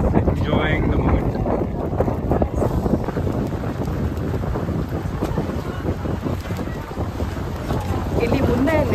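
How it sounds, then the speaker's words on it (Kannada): A catamaran cruises under strong wind on the open sea off Mauritius, with loud, continuous wind buffeting the microphone over rushing water and hull noise, and faint voices mixed in. "ಕ್ಯಾಟಮರಾನ್ ಇವಾಗ ಶುರು ಆಗಿದೆ."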